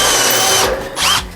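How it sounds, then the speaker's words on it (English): A power drill whines in two short bursts, drilling and countersinking into hard cement board with a brief pause between them. "It basically drills a hole through the cement board and countersinks at the same time."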